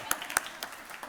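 A woman gives a couple of sharp, isolated hand claps during a keynote address at an aging-in-place conference. The claps are brief and fairly faint over a quiet room.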